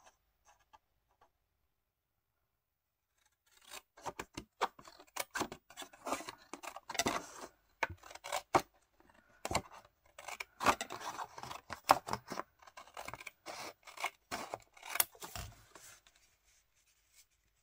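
Scissors cut paper for a scrapbook folio, a close run of crisp snips and rustles that starts after a few seconds of near silence and continues in irregular bursts before stopping.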